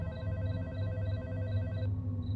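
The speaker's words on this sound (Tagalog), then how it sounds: "tumawag na rin si Ate D sa cellphone ko." A mobile phone rings with a repeating electronic ringtone, about half a dozen evenly spaced pulses over a low background hum, and the tone stops shortly before the end.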